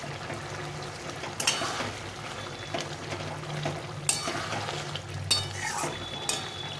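Fried fish heads set to simmer with vegetables in a pot for a Bengali chorchori with pumpkin and Malabar spinach, giving a low steady bubbling with scattered clinks and scrapes of a stirring spoon against the pot.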